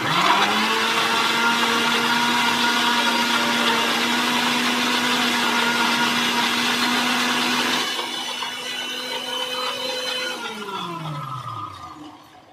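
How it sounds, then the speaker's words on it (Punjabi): A kitchen mixer grinder purees mango with a loud, steady motor whine that shifts to a lower pitch partway through and then winds down to a stop. "ਅੰਬ ਨੂੰ ਅਸੀਂ ਮਿਕਸੀ ਦੇ ਵਿੱਚ ਪਾ ਕੇ ਗ੍ਰਾਈਂਡ ਕਰ ਲਾਂਗੇ"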